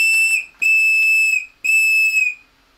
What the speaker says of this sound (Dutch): En een hoop herrie maakt het fluitje zeker.